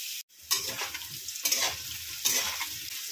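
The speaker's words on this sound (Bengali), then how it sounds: "লবণ আর হলুদ দিয়ে আলুটা খুব ভালো করে ভেজে নিচ্ছি" Potatoes frying with salt and turmeric in a pan give a close, steady sizzle, broken by three slow spatula scrapes after a brief moment of quiet at the start.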